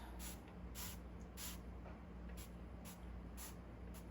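Short bursts of hissing from a spray bottle spritzing epoxy resin repeat at an uneven pace, faint over a low steady hum.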